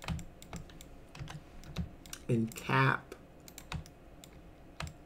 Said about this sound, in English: hit one on the keyboard